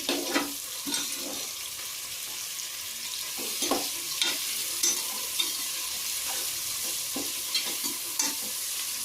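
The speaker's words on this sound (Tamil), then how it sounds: "நல்லா வதங்க கிண்டி விட்டு லைட் ப்ரௌன் கலர் வந்த உடனே மிளகா போடணும்" Vegetables for vegetable biryani sizzle steadily in a pan while a spoon stirs them, with repeated scraping clinks and soft knocks over a continuous close frying hiss.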